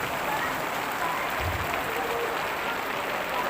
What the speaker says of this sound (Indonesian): Turun lagi nih hujan.